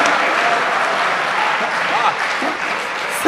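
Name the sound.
audience applause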